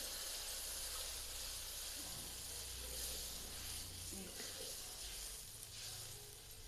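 Water poured into a hot pan of kolar thor bora curry hisses steadily, a continuous broadband sizzle running throughout with no sharp onset, moderately faint and unchanging.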